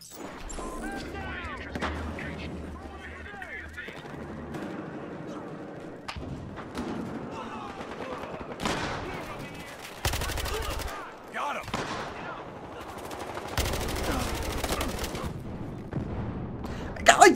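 Gunfire from the Battlefield Hardline Bank Job conquest match, a steady run of shots and bursts with heavy thumps and booms, several sharp loud volleys mixed through continuous battle noise, with a voice talking now and then.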